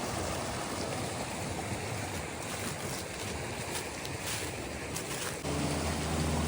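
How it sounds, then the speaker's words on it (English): A flooded creek, normally small, rushes like a river in steady broadband roar, loud and continuous throughout with no voices. "it's usually just a small creek. Right now it's raging like a river."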